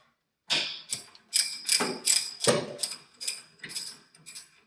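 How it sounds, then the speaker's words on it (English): A hand ratchet tightens bolts on an older car in a rapid series of close, crisp clicking bursts, about nine strokes in an even rhythm after a moment of silence. "That's why I'm doing it with manually with a ratchet"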